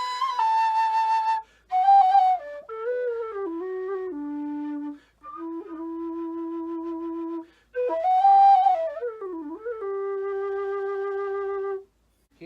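A Skellig low D aluminum Irish whistle plays a slow series of sustained, pure notes, stepping between lower and higher pitches with brief pauses, close and clear.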